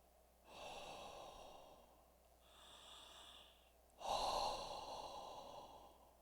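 A voice imitates a large dog such as a husky or Saint Bernard breathing, with airy, devoiced exhalations: two long breaths, a softer one between them, then a louder, heavier final breath, close and alone.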